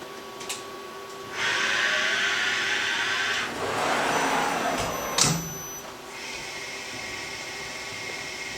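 A CNC milling machine runs its warm-up program with a steady whine and airy hiss that rise and fall as the spindle and axes move, joined by a brief clunk near the end.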